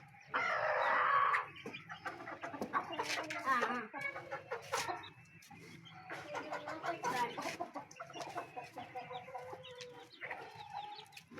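Backyard Aseel chickens cluck and a rooster calls close by, a loud squawk at the start followed by ongoing clucking and murmuring from the flock.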